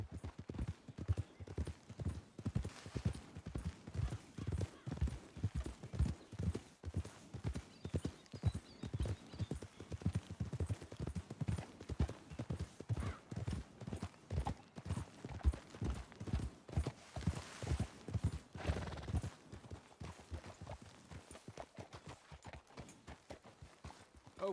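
Horses' hooves clip-clop steadily in Red Dead Redemption 2, a continuous close rhythm of hoof strikes on a trail that lasts the whole stretch.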